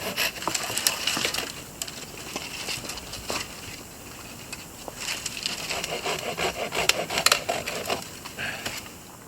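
Hand sawing through a branch during trail maintenance on a wooded Adirondack hiking trail, with repeated rasping strokes of uneven rhythm, close by and steady, no talking.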